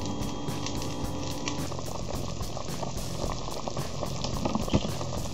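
Oxtails simmer in liquid in a pot, giving a steady, close bubbling and sizzling that runs continuously with small pops and no voices over it.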